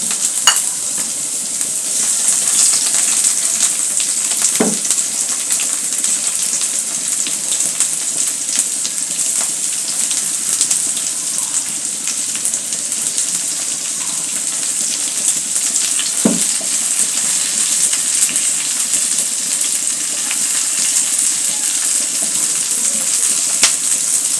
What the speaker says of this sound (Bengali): লম্বা করে কাটা পেঁয়াজগুলো এখন আবার ভেজে নেব